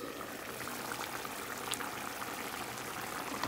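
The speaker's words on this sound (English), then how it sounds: "This is the chicken methi, bubbling away." A pot of chicken methi curry with bay leaf and green chilies simmers over medium heat, giving a soft, steady bubbling and gentle gurgling with no voices.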